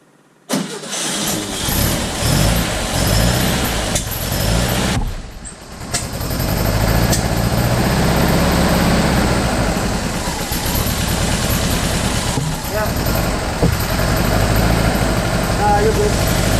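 A newly installed car engine cranks and fires, stumbles briefly, then restarts and runs loud and rough at a struggling, uneven idle close by, with voices talking over it.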